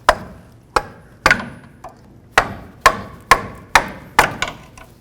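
Sharp metallic strikes ring out one after another, about ten hits in irregular rhythm, as a single-use squeeze clamp is broken off a steering rack boot on a 2005–2015 Toyota Tacoma, each hit close and decaying quickly.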